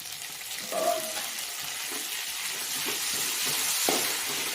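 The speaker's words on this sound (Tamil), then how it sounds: "தக்காளி போட்டு ஒரு ரெண்டு நிமிஷம் வதங்கினா போதும்" Tomato sautéing with onions in a pan for brinjal and drumstick sambar: a continuous close hiss of frying with a few soft stirring scrapes and clinks.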